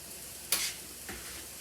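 Mushrooms hit a hot pan for a minestrone, giving a brief sizzling hiss followed by a softer second burst of frying, close and alone without talk.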